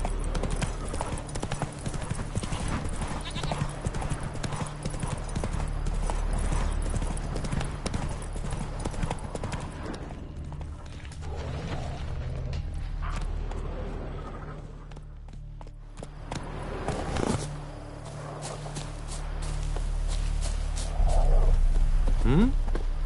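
Horse hooves clip-clop at a steady running gait in The Witcher 3, a continuous rhythmic patter over a low ambient bed, close and fairly loud, easing off briefly midway before picking back up.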